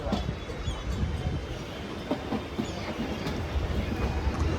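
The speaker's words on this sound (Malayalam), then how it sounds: "660608 കറക്റ്റ് ഓൺ ടൈം പിടിച്ച് കോയമ്പത്തൂർ ജംഗ്ഷൻ 3ാമത്തെ പ്ലാറ്റ്ഫോമിലേക്ക് കയറാണ്." A MEMU train, number 660608, rolls into platform 3 at Coimbatore Junction with a dense rumbling roar and faint rhythmic wheel clatter, loud and steady throughout.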